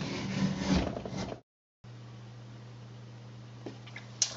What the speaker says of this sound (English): Okay, so I'm just gonna take some shavings off.